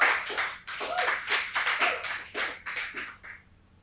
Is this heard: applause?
yes